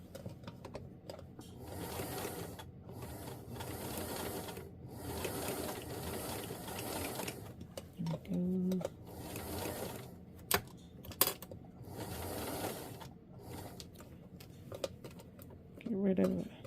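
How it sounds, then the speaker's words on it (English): A home sewing machine stitching fabric close to a marked line while making a New Look 6603 garment, its motor whirring in steady bursts with short pauses, plus a few handling clicks and a brief voice near the end. "I am stitching right next to that line."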